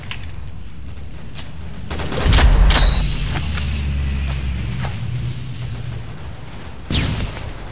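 Grenade blast and sharp gunshots in the WW2 mobile shooter World War Heroes, a heavy low boom with a rumbling tail among scattered loud cracks.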